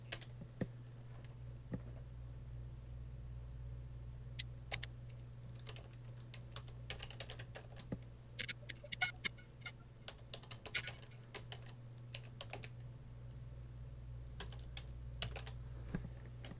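Steady typing on a computer keyboard, heard alone at close range as quick, irregular bursts of key clicks over a low hum, with brief pauses between runs.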